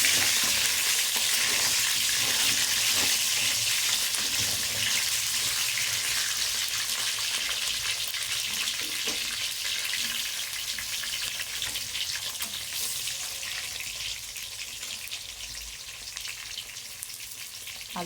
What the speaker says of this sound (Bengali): চিকেন কষা আলুটা ভেজে নিচ্ছি